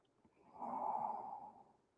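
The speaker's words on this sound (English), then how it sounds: "Breathing for 1." One slow, soft breath of a person resting in the yoga child's pose during a gentle hip and hamstring session rises and fades over about a second, close and quiet with no talking.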